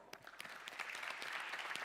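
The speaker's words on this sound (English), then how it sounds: "Let's welcome him with a big round of applause." An audience at an arts and technology symposium claps in welcome for an arriving guest speaker, a soft, steady patter of many hands that builds slightly over a couple of seconds, heard from a distance.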